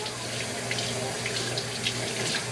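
Tap water runs steadily onto an alum block at a sink while shaving, a continuous close splashing hiss with no pauses.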